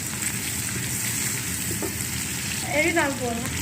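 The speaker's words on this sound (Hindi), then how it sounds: "ये ऑयल हमने गरम करके प्याज डाल दिए" Onions fry in hot oil for a mixed potato, carrot, pea and fenugreek curry, making a steady close sizzle. A brief whistling or squeaking sound rises near the end.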